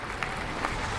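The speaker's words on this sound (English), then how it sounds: "Fireworks. Applause." Applause in the restaurant management game Auto Fish Dispensary, a short burst of steady crowd clapping that is brief and even throughout.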